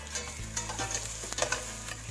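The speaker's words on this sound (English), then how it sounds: "I'll fry them for next 2 or 3 minutes." Masala spices frying with sweating onions in a pan for butter chicken, a steady close sizzle with small scraping stirs and crackles throughout, no voices.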